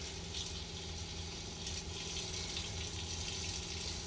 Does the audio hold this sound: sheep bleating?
no